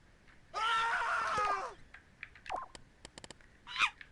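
A video game's scream sound effect: one loud, shrill harmonic scream of about a second, then scattered short chirps and squeaks afterward.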